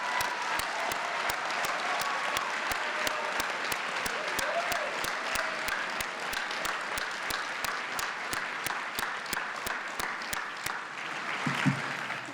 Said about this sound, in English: Let's give these folks a rousing round of applause.